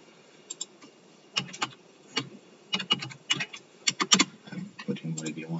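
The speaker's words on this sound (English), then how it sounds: "And then you can type in here as needed." Computer keyboard typing in irregular bursts of quick, close clicks, with short pauses between clusters of keystrokes, sounding clear against a quiet background.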